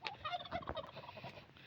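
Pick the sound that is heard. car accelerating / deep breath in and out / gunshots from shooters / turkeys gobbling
turkeys gobbling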